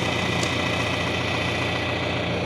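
A tractor engine idles steadily before hay baling, a constant close rumbling drone with a faint whine and no clear change in pace, no talk.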